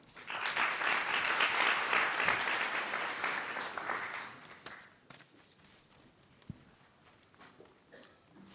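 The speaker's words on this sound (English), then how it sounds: "please give them a loud round of applause" Audience at a 2017 universal health coverage forum session gives a round of applause, a dense clapping wash that builds, holds for about four seconds, then tapers into quiet room noise with a few scattered sounds.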